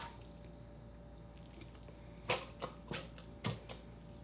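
Kimchi being squished and packed tightly into a water seal crock, giving a few soft, wet squelches and drips in uneven bursts over quiet room hiss.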